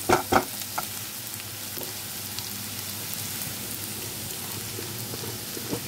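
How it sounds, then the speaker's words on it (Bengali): Sliced onion frying with whole cumin seeds in a pan, a dense, continuous close sizzle with a few sharp clatters of stirring at the start. "পেঁয়াজটা একটু ভাজা হবে"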